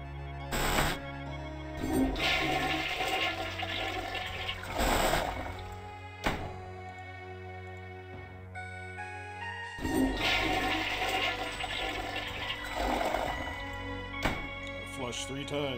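Toilet flushing three times in the video game I Have No Mouth and I Must Scream, each flush a loud rushing gush followed by trickling refill, spaced several seconds apart, with a voice heard between.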